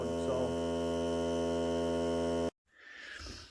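A Hart cordless air compressor runs with a steady, tonal motor hum rich in harmonics. It stops abruptly, leaving a brief silence and then faint rustling handling noise.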